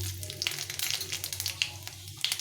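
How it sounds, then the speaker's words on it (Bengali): Dried chili and cumin seeds sizzle in hot oil in a home kitchen pan, a steady close frying hiss with scattered sharp crackles and pops throughout. "প্রথমে একটা শুক লঙ্কা তেলে দিয়ে দিলাম তেলটা গরম হয়ে গেছে এর মধ্যে আমি হাফ চামচ মতো জিরে দিয়ে দিলাম"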